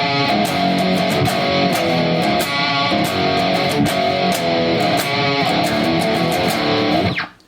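A distorted electric guitar plays an extended chorus riff, a dense and steady chugging riff that stays loud throughout and cuts off abruptly at the end, with no voices.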